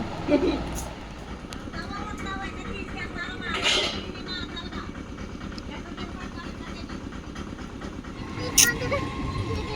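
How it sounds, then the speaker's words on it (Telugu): A train rumbles past with steady low mechanical noise and rattling, while people talk over it and a brief sharp squeal cuts in near the end. "అదిగో ఇంకో ట్రైన్ వస్తుంది"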